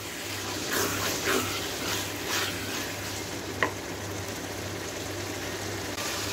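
Mutton qeema fries in a pan with a loud, steady sizzle and crackle, a few scraping stirs near the start and one sharp utensil tap midway, with no talk.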